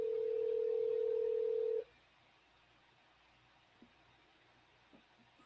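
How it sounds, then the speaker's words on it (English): A steady telephone dial tone sounds loudly for nearly two seconds, then cuts off, leaving near silence with a few faint clicks and a sharp click at the very end. "Let me give him a call here."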